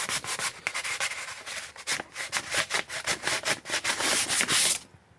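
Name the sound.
sanding dirt bike plastics with 1200 grit sandpaper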